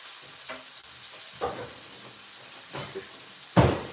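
Food sizzles steadily in a non-stick pan while a silicone-tipped utensil stirs and scrapes now and then, ending with a louder burst of crackling hiss.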